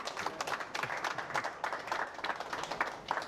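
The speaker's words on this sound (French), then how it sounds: "Vous avez notre championne, Mariam Thiam. Applaudissez." Live audience applause at the launch event of a Senegalese supply chain association, a loose, uneven patter of claps of moderate loudness.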